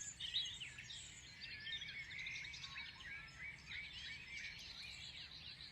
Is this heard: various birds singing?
yes